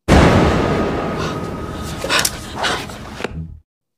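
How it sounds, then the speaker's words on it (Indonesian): Gunshots in a film scene where armed men burst through a door and execute a man inside a facility: a loud, close blast that decays into a roar, followed by a few sharper reports before an abrupt cut to silence. "Mendengar suara tembakan, Claire bergegas bersembunyi"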